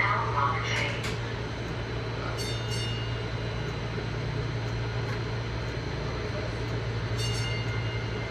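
A VTA light rail train rumbles steadily into a Valley Transportation Authority station near Civic Center, a low continuous drone with a few bright squeals and clanks, while people talk nearby.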